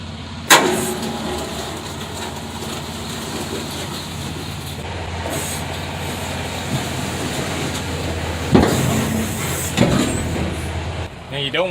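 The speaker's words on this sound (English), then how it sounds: "make sure you go slow when you're driving forward or back sliding the tandem" Semi-trailer tandem axles being slid forward or back under a slowly moving truck, a loud metallic clunk at the start, then steady rumbling and creaking, with heavier knocks and clanks around the middle and end.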